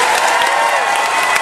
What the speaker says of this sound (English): Round of applause, who thinks there's more televisions?